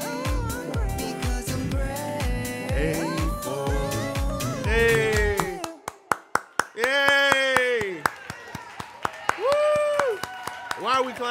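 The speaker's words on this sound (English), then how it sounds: "Why are we clapping?" People clap their hands in sharp, rhythmic claps over K-pop music, with voices talking in between.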